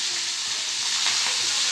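Curry leaves tossed into hot oil for tempering sambar, giving a steady, close crackling sizzle that holds for the whole short moment with no voices.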